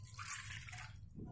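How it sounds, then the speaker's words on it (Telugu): A cup of water poured into sugar for sweet boondi syrup, a short bright splashing pour that fades out after about a second. "కప్పు నిండుగా ఇలా వాటర్ వేసి ఈ పంచదారలో వేయాలి."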